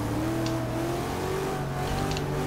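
A video game car engine, a Fiat Dino in Forza Motorsport 6, drones steadily with rising and falling pitch, a continuous revving hum that fills the whole stretch.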